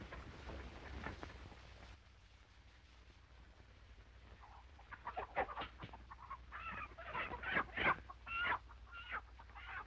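Chickens cluck and squawk in a farmyard, the calls growing busier and louder in the second half over a low background rumble.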